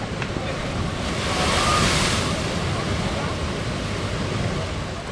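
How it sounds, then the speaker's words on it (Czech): Ocean waves surging against and spilling over the edge of a natural rock pool at Los Gigantes, Tenerife, a continuous loud wash of surf that swells briefly, mixed with heavy wind buffeting the microphone. "občas se ta vlna dramaticky přelije přes okraj"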